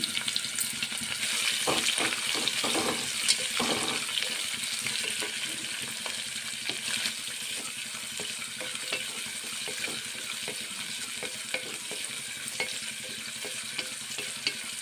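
Cashews and thinly sliced onions frying in a pan give a steady, close sizzle, with a few stirring scrapes and clicks early on and a hiss that stays even to the end.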